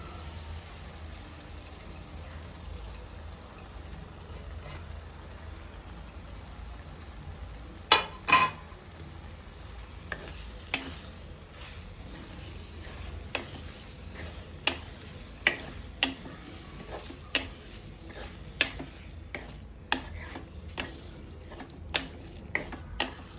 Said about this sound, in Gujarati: હવે એમાં આપણે ગ્રેટ કરેલું પનીર એડ કરી દઈશું.